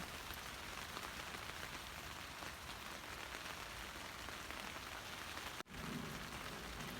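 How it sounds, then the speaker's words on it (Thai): Steady rain patters densely on surfaces, a constant hiss that cuts out for an instant before resuming. "ฝนตกได้ยินเสียงไหมคะฝนตก"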